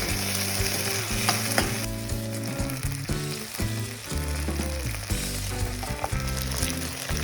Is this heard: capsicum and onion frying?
yes